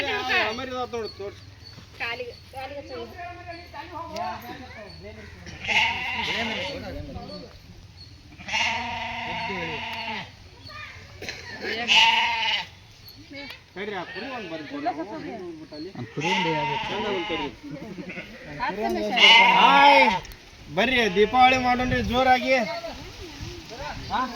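Sheep bleat repeatedly in wavering, close calls during a Diwali sheep worship ritual, with people talking among the animals throughout.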